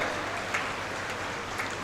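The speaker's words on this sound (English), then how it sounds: "Big round of applause for them." Crowd applause at a school foundation day ceremony honouring high-scoring students; continuous, somewhat distant clapping wash with a few louder claps, steady throughout.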